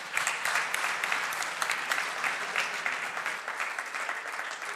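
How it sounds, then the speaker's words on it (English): Audience applause for the panel speakers at a conference, steady, moderately loud clapping throughout with no talk over it. "I would like to ask all of you to have a round of applause for all the speakers."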